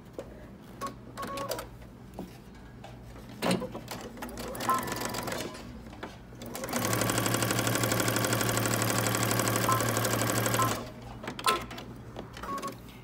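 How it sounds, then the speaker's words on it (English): A home sewing machine stitches a pants inseam at 5/8 inch seam allowance with a backstitch, starting with a few short stitching bursts and then running steadily for about four seconds up close before stopping. "we're going to sew using 5/8 of an inch seam allowance"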